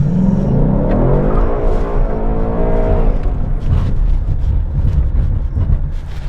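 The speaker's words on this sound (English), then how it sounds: "First thing is a hard acceleration, then full ABS brake." A Ford Mustang GT on Kumho Ecsta Sport tires accelerates hard on a wet skid pad, its engine rising loudly in pitch for a few seconds before easing off into a rumbling, rushing stop under heavy wind noise.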